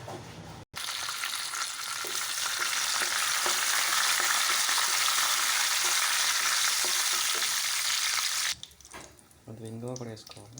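Spices for tempering hit hot oil for a mint and tomato chutney, a loud dense sizzle that starts abruptly and holds for about eight seconds before cutting off, followed by a short voice.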